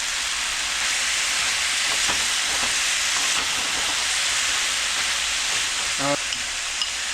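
Beef and pineapple stir-frying in a hot pan, giving a steady, loud, hissing sizzle that continues unbroken, with faint scrapes and clinks of stirring over it.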